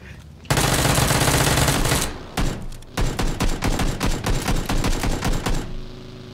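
Video game gunfire rings out as a loud continuous burst of automatic fire, followed by a brief pause and then a rapid rhythmic string of shots close by.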